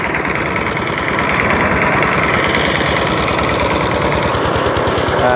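The engine of a water well drilling machine drones steadily and loudly at a constant pace, with a low throbbing pulse that holds for the whole stretch.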